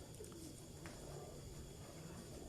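Breeder pigeons cooing softly in a loft, low repeated coos over a steady background hum, with no one talking.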